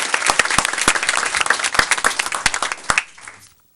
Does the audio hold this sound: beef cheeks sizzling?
no